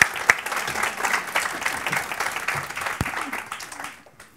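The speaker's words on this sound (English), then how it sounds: "So can we just give them all a round of applause" An audience applauds at a panel talk with women entrepreneurs, dense clapping from a mid-sized crowd that holds steady then tapers off toward the end.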